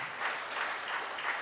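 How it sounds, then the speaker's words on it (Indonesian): Church congregation applauding at an Easter service, a steady mid-level clapping wash that holds evenly for the whole stretch with no voices over it. "Beri tepukan."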